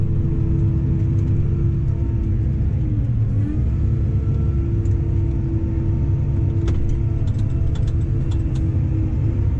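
Tractor engine pulling a plough across a field, a steady loud low rumble and drone held close for the whole stretch, with faint clicks and taps near the end.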